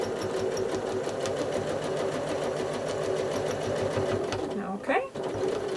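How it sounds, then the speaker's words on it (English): A sewing machine hums and chatters steadily at a fast, even pace while quilting circles on a disappearing nine patch block, with a brief pause and shift near the end; a voice talks over it. "Now I'm going to stitch down along the edge of that circle, and I'm going to stitch the next circle."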